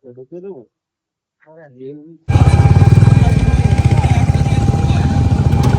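A motorcycle at a Royal Enfield showroom in Krishnanagar suddenly rumbles into a loud, close, steady engine throb with rapid pulsing that continues to the end, after a person talks briefly.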